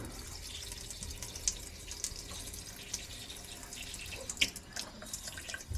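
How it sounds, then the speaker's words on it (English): Water running from a leaky Moen faucet into a sink, a quiet steady splashing with a few drips, close by. "we're going to turn on this faucet."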